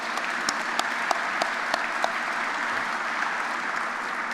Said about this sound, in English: give everybody a big round of applause for everything you've done here